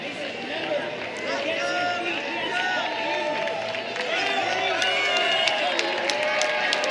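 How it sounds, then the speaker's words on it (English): A college wrestling crowd in an arena cheers on a 174 lb wrestler, a dense steady roar of many voices with shouts and claps that swells toward the end. "the crowd getting behind Stefanelli, trying to fire him up"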